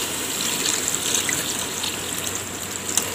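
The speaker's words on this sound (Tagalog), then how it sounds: "Ibuhos na natin to ng tubig" Water pours and gushes steadily into a cooking pot outdoors, a continuous splashing flow at close range.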